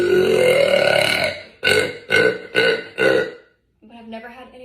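A woman lets out one long, loud, close burp, then four quick punchy belches in a row, followed by a brief quieter sound.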